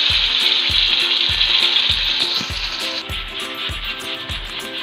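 Oil sizzles loudly as ground onion fries in a pan, with a steady hiss and a regular rhythmic knocking or stirring beneath it.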